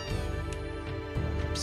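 Cartoonish cat meows from the PS1 game Final Fantasy 7 repeat over a steady, ringing musical game soundtrack, moderately loud and close, with no talking.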